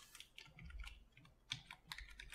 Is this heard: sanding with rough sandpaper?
no